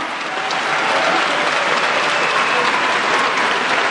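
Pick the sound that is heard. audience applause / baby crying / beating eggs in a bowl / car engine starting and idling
audience applause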